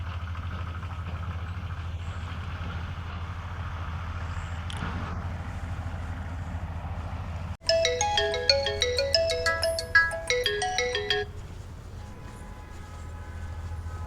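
A phone ringing on an outgoing call plays a loud melodic ring pattern for about four seconds, breaking in over a steady low background hum.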